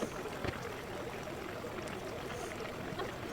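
Water poured over basmati rice in a tray gives a soft, continuous trickling splash, quiet and close, with a voice speaking faintly at times.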